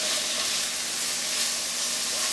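Karela and potato subzi with melting sugar fries in a pan, a loud, close, unbroken sizzling hiss throughout with no voices.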